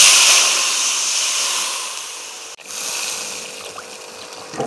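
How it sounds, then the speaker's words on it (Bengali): Water pours into a hot pan of fish curry with milk, salt and green chillies, giving a loud steady hissing rush that fades, breaks off briefly and resumes, with no voices. "তো এখন দিয়ে দেবো জল।"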